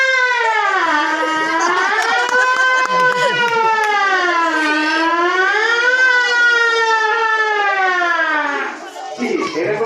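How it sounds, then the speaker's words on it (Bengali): A fire service fire engine siren wails loud and close, its pitch rising and falling in slow sweeping cycles for nearly ten seconds before fading at the end. "যেই গাড়িটি দৌড়ে এসে আমাদের আগুন নেভানোর কাজে ব্যস্ত থাকে, সেই গাড়িটির শব্দ, অর্থাৎ ফায়ার সার্ভিস।"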